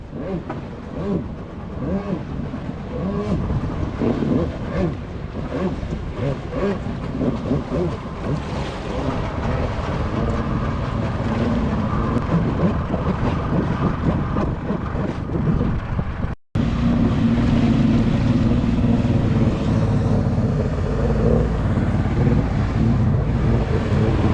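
A brand-new two-stroke jetski engine during break-in runs steadily with the throttle varied, a loud continuous drone mixed with water and wind rush, close and without talk, briefly cutting out near the middle.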